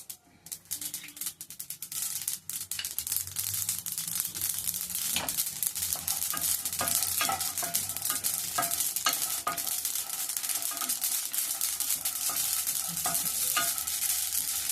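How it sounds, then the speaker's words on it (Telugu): Sesame seeds roasting in a pan on a stove, a dense crackling sizzle that builds after a quieter start, with frequent scraping and tapping of a spatula stirring them, close and steady, with no talking. "నువ్వులు ఈ విధంగా వేగిన తర్వాత తీసేయాలి"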